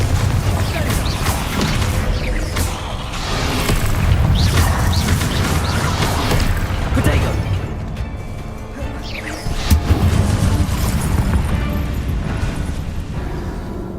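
Hogwarts Legacy spell blasts, a loud continuous stream of magical impacts, crashes and booms with whooshing bursts in a hectic fight, voices calling out amid the noise.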